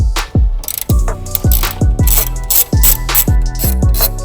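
A hand ratchet clicks rapidly in repeated strokes while loosening 12mm nuts and a bolt on a master cylinder brace, loud and close, each burst of pawl ticks separated by short resets.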